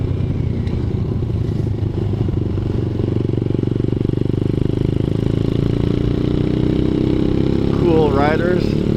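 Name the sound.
ZS190 Grom clone motorcycle engine while riding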